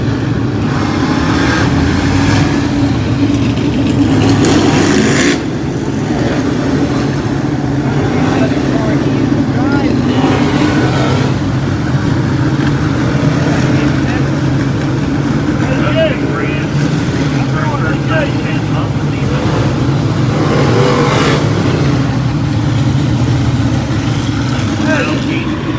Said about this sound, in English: Getting the cars going again.